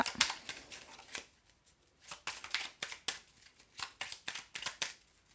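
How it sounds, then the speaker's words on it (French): Tarot cards riffle and slap together in quick, crisp bursts, each flurry split by brief pauses, as they are shuffled and then drawn one by one for a nine-card spread, all close and quiet. "On fait le tirage à 9 cartes"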